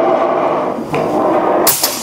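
A single sharp crack from an FX Daystate air rifle firing, sudden and bright near the end, over a steady background hum.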